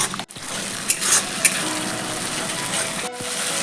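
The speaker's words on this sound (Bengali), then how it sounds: "এই টমেটোটার কাঁচা গন্ধ না যাওয়া পর্যন্ত আমি এটা কষিয়ে নেব।" Chopped tomato fries in oil in a pan for a chicken curry, a loud, steady sizzle with a few brief scraping stirs partway through and no talking.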